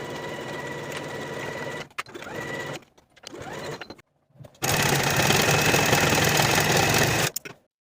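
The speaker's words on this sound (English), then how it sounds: "Sew these seams with a 5/8 inch seam allowance and finish your seams." A sewing machine runs in bursts while stitching sleeve seams, with short stops, a couple of clicks, then a longer steady run of close, even stitching.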